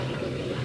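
Water gushes steadily from an antique farm hand pump, a short, full splashing rush heard up close.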